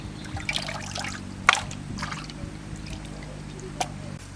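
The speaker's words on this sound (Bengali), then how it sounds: "মাংসগুলো ধুয়ে নিই।" Chicken meat being washed with water, with soft trickling and splashing and a few brief sharper splashes over a low background hum, fairly quiet and close.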